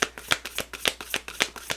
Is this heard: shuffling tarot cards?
yes